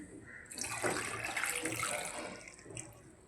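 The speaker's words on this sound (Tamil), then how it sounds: "தண்ணி ஊற்றி" Water poured into a bowl holding three tomatoes and a dried chilli for rasam, a soft, continuous splashing pour that swells after a brief start and then tapers near the end.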